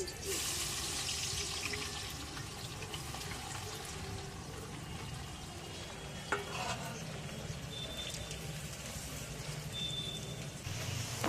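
Sliced onions dropped into hot white oil and sizzling as they fry for biryani, a dense continuous hiss close by with occasional stirring scrapes, no talking.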